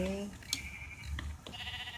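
A sheep in Minecraft bleats a few times in short, wavering calls, fairly quiet, alongside light footsteps and small game sounds, with a voice talking over parts of it.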